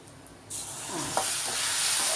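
A sudden hiss as lemon juice hits a hot pan, swelling into steady, loud sizzling and bubbling up close.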